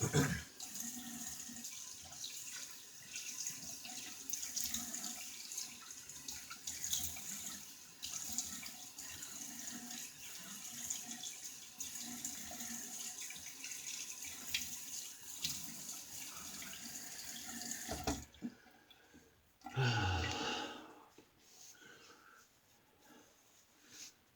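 Tap water runs steadily into a bathroom sink for rinsing during a wet shave, a continuous close hiss that stops abruptly, followed by a brief splash of rinsing before things fall quiet.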